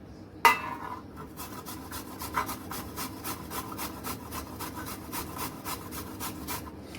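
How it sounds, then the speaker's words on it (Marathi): Raw cooking banana is rubbed against a kitchen grater, giving a steady, rhythmic rasping scrape that repeats in even strokes at close range, with no one talking. "ही अशी पूर्ण आपल्याला किसून घ्यायची केळी."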